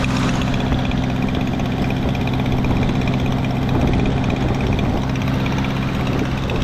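The 2.3 Lima four-cylinder engine of a 1975 Mercury Bobcat Villager idles loud and close, a steady low rumble with a constant hum throughout and no talk.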